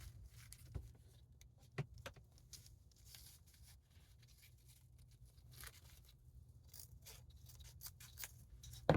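Scissors snipping ribbon for a Valentine door decoration, several quiet, crisp cuts spaced irregularly against a low steady hum, close and faint, with no talking.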